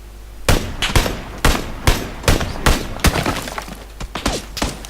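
Rapid bursts of gunfire in the battle royale game PUBG, about a dozen sharp cracks at irregular intervals, some close and loud, others slightly fainter, with no talk over them.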